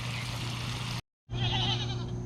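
Goats bleat loudly and continuously near a fish fry cookout, with a steady background drone and a brief gap in the sound.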